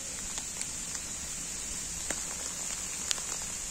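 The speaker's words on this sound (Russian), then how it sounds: "и пошел град" Small hailstones fall during an outing to a giant oak in Belarus, making a steady soft patter with occasional sharper ticks of individual stones striking nearby, faint and with no talking.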